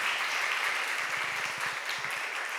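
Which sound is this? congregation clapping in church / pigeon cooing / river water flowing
congregation clapping in church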